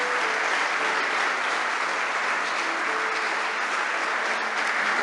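A church congregation claps in dense, even applause that holds at a constant level throughout, with a faint tonal hum underneath.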